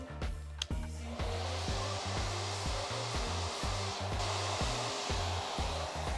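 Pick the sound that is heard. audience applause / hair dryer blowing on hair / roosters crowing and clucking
hair dryer blowing on hair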